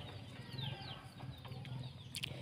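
Chickens in a village cluck softly in short bursts against a quiet outdoor background, faint and close, with no talk.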